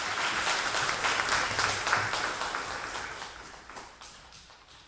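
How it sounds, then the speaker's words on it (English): Audience applause in a Sichuan University lecture hall welcoming a Buddhist teacher, a broad steady wash of many hands clapping that slowly fades toward the end. "let's applaud and invite Khenpo to bring us a wonderful lecture"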